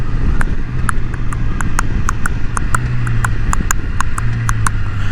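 A person imitates a horse's clip-clop with sharp mouth clicks in a steady trotting rhythm, about a dozen evenly spaced clops over a loud low rumble of wind or traffic outdoors.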